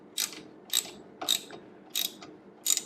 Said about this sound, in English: So now we're going to go ahead and tighten up these button head bolts here.